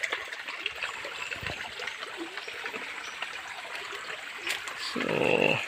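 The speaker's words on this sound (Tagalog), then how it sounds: "umabot ako dito sa maliit na ilog." Small river in the countryside reached after a long hike: a soft, continuous trickle and gurgle of flowing water with faint background activity, swelling into a louder splash near the end.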